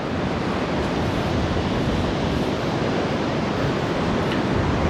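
Rough surf at Morjim beach in Goa, a continuous dense roar of breaking ocean waves with steady wind rumble and no voices.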